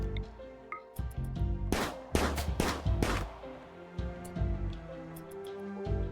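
Bursts of video game gunfire in a colony-building game crack out in several loud broadband blasts clustered mid-clip over low music and background game sounds, no talking.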